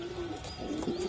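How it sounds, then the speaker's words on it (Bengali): A high-flying pigeon at a pigeon market coos in a steady low murmur close by, with a few faint chirps above it and no talk. "হাই ফ্লাই একটা কবুতর ভাই"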